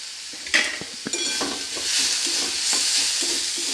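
Potato and carrot with spices sautéing in a pan, a steady sizzle with a utensil scraping and clinking repeatedly against the pan, up close, no voices.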